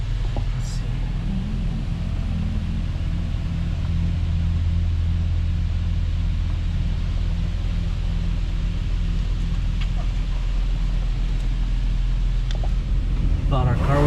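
An automatic car wash runs over a car, heard from inside as a steady low rumble and hiss of water and machinery, with occasional quiet voices.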